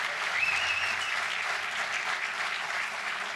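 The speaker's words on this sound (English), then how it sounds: "Let's give them all a nice round of applause for helping us kick off tonight." A large crowd at a city's State of the City address gives a steady, dense round of applause for a choir and Eagle Scouts, a continuous wash of clapping without pauses.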